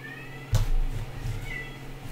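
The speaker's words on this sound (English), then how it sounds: "Oh, dear Lord, this cat." A cat lets out a single loud, close meow partway through, followed by a low rumbling room tone with no talking.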